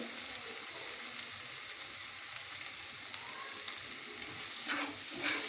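Soft onions frying with coriander powder and turmeric in a pan for a spicy fish curry, a steady, fairly quiet sizzle with a couple of louder stirring bursts near the end, no voices.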